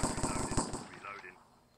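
Rapid Uzi bursts from a Minecraft mini game, a quick string of close sharp video-game gunshots lasting under a second before fading out.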